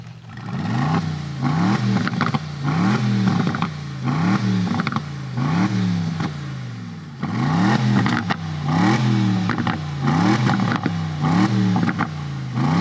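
A new Aston Martin Vantage revs hard from behind the car, loud and close, in repeated rising and falling bursts with sharp crackles between them.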